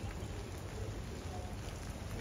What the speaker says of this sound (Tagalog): Ayan po yung ulan.